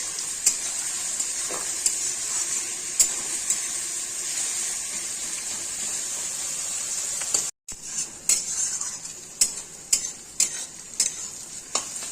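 Salted onions sizzle in a pan for village-style mutton curry, a constant bright hiss broken by sharp scraping stirs. The stirring grows more frequent and punchy in the second half, close up and with no voices.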